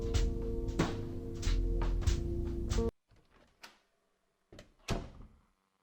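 A heavy video game door thuds and creaks over a steady droning background, followed by a few sharper knocks and clunks in a quieter stretch.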